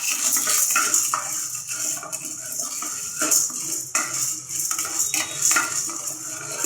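Chana dal dry-roasting in a pan while a metal spoon stirs it, giving continuous close scraping and clinking with rattling grains, irregular and busy throughout, without any talk.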